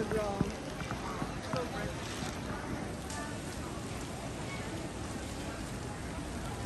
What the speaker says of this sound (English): And even though it's raining